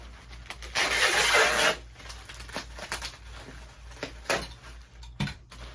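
Packing tape screeches off a tape machine across a cardboard shipping box in one long, loud rasping pull, followed by softer taps and rubbing as the tape is pressed down, with no one speaking.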